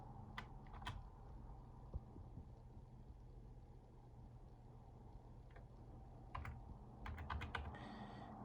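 A computer keyboard is typed on quietly while a command is entered on a Windows machine, with scattered soft key clicks and a quick cluster of taps near the end over a low steady hum.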